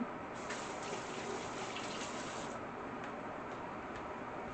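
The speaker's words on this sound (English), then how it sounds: "let me wash my hands right quick." Tap water runs steadily into a kitchen sink while hands are washed, a soft continuous splashing hiss that stays faint and even throughout, with no speech.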